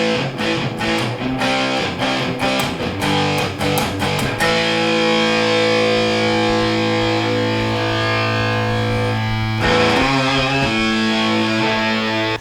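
Electric guitar played through a Catlinbread Knight School DIY fuzz pedal at maximum gain, loud and heavily distorted: a run of rapid chugging strums, then long sustained fuzzy chords ringing out, with another chord struck near the end.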